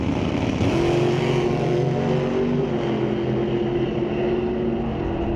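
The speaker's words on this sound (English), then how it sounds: "Dragster putting down a 441 at 157 miles an hour." Drag racing dragsters launch side by side from the line at a drag strip in an NHRA Northwest National Open Series race. A loud, roaring engine rises in pitch and then holds a steady, sustained howl, with no talk over it.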